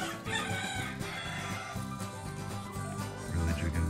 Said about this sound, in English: Really, chickens.